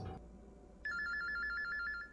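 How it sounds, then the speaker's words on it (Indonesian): A mobile phone rings with an incoming call in a Korean drama scene: after a brief burst of noise and a pause, a steady, loud electronic ringtone trills repeatedly and fills the rest of the moment. "suara telepon yang masuk pada ponselnya"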